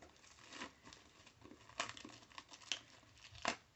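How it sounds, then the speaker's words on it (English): Plastic wrapping is torn and crumpled off a Nintendo Switch game box for Story of Seasons: Wonderful Life, giving soft crinkling with several sharper tearing bursts, fairly faint and close, with no talking. "Okay, I took off the wrapping."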